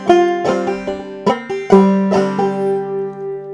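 A clawhammer banjo plays the tune Little Sadie in a simplified style without drop thumb, with bright plucked notes in a steady picking rhythm, close and clear, and the final notes ringing out.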